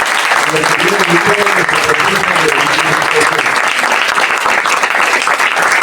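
Steady applause from an audience at a provincial workshop on Afro-Santiagueño identity in Argentina, dense and continuous throughout while someone speaks over it through a microphone.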